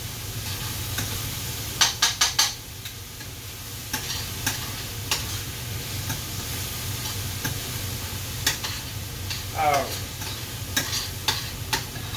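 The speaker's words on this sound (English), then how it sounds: "So these mushrooms are starting to cook out." Mushrooms frying in leftover oil in a pan, a steady close sizzle under a low hum, broken by occasional sharp utensil clicks and stirring scrapes.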